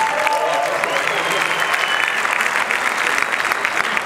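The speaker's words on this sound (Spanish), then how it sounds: "Un aplauso para Felipe." A leadership academy crowd in Riviera Maya claps warmly and continuously, a close, even wash of applause with some faint voices mixed in.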